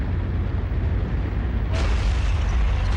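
A 1942 El Alamein artillery barrage sounds as a continuous, dense, low rumble of massed explosions that grows brighter and sharper partway through, with no single blast standing out.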